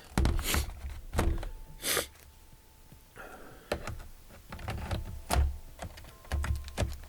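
Fingers tap out bursts of keystrokes on the freshly repaired keyboard of an Acer laptop, clicking irregularly, close and clear, with short pauses between flurries and no talking.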